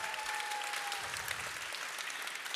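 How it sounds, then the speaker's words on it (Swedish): An audience at a festival semifinal applauds, a dense, even wash of clapping from a crowd that holds steady for a few seconds. "En applåd till Pernilla och Linda."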